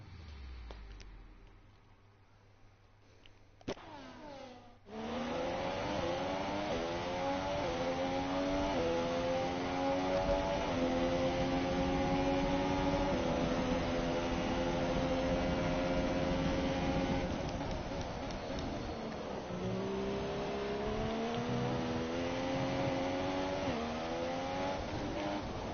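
Race car engine in a racing video game at the Abu Dhabi circuit, revving high and steady for long stretches, with gear changes and rising and falling pitch after a short quieter opening.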